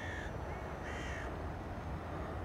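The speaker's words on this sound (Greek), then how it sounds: "Και επίσης έχω και κοράκια εδώ πέρα" Crows cawing outdoors, two harsh calls close together near the start over steady wind-like background noise, then quiet.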